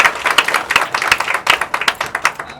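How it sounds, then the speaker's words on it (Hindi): Brisk clapping from a small group, rapid and uneven, lasting a couple of seconds at close range. "आप इसके लिए एक तालियां तो बनती है"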